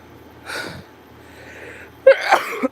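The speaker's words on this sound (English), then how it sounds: "I have a sneeze coming on." A single sharp sneeze bursts out near the end, preceded by a brief breathy intake and quiet room tone.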